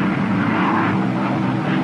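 Steady, loud drone of a P-61 Black Widow warplane's engines in flight, a continuous broadband roar with no break or variation.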